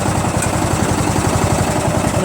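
A Murray lawn tractor engine runs steadily and will not shut off after its magneto kill is grounded, a close, loud mid-pitched chugging with an even, rapid pulse throughout.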